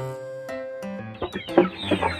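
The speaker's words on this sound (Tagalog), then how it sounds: "Papaliguan natin ang inahing manok" Mother hen clucking in short repeated bursts, close by, while being bathed, with a busy, rising flurry of squawky clucks toward the end.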